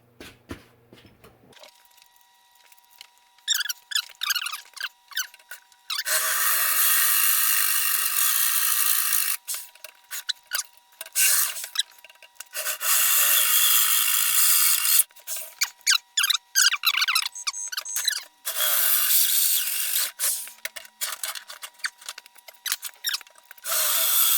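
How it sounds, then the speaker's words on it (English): A plasma cutter slices steel for a plow for a Terramite, starting through a drilled hole. Loud, harsh hissing comes in sustained bursts separated by short gaps and sputtering starts and stops. "I'm pretty sure that's enough to start the plasma cutter through"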